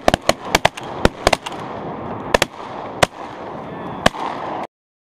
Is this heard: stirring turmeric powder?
no